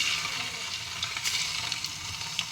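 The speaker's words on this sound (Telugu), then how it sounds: "కొద్దిగా తీసుకొని కొద్దిగా పీసులు వేసుకుంటూ ఫ్రై చేసుకుంటున్నా" Chicken pieces frying in a small amount of oil over a high flame, a steady close hissing sizzle with faint crackles and stirring, no voices.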